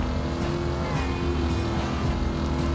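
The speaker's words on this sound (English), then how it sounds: "Oh god, traffic!" Steady engine drone and road rumble of car traffic in the driving video game Driver San Francisco, a continuous loud whoosh of vehicles with no talking.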